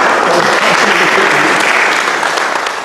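A crowd at a Bazou royal gathering honouring a deputy breaks into loud, close, continuous applause, dense clapping that barely eases across the whole stretch.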